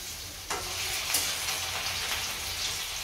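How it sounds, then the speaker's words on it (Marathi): Taro leaf vadi sizzle steadily in hot oil, giving a close, continuous crackling hiss with no voices over it. "त्याच्यामध्ये मी एक टाकून फ्राय करून घेते."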